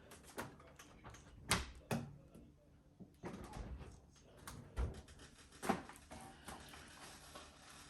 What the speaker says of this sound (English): I have to close a little bit the door.